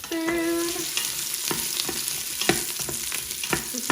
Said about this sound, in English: then you just want to brown your onions a bit